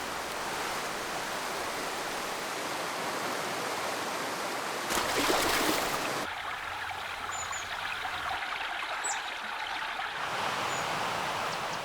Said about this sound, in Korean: 계곡 물소리가 정말 시원한데요